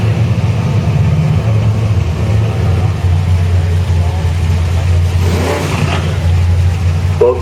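Engine of a 1971 Dodge Demon drag car running at a drag strip during qualifying, a steady low rumble that swells briefly around the middle, loud and close with crowd or announcer voices faintly underneath.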